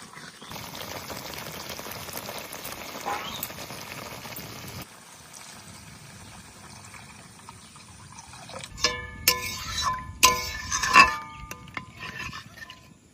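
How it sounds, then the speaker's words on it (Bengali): Water pours into a frying fish curry made with white and black mustard paste and poppy seed paste, the splash and bubbling rising late over a steady sizzle with a few clinks. "সুন্দর তেল ছেড়ে দিয়েছে, এবার জল দিয়ে দেবো।"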